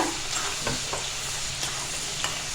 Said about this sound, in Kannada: ಒಣ ಖಾರ ಪುಡಿ ಹಾಕಕತ್ತ ನಾನು